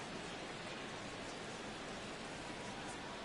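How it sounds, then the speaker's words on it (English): Rain falls on a baseball stadium as a steady, even hiss of broadband noise, soft and continuous with no distinct drops or voices. "Rain continues to fall here in the 6th."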